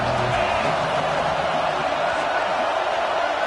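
A dense, steady roar from a Kentucky football playoff stadium crowd cheering on third down, loud and unbroken, with a commentator's voice faintly mixed in.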